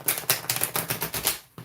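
Oracle cards being shuffled by hand, a rapid run of crisp riffling snaps and flicks up close, loud and rhythmic, ending in a brief pause and one last tap.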